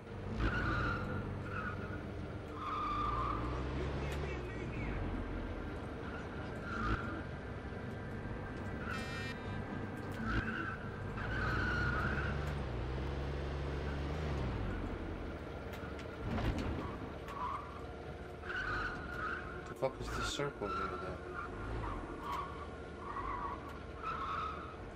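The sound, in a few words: car driving and skidding in Scarface: The World Is Yours video game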